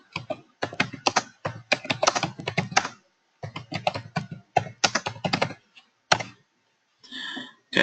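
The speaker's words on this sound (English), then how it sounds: "I gotta type in the plan again." Typing on a computer keyboard, rapid clustered keystrokes in bursts with short pauses, close and clear, ending with a few separate taps.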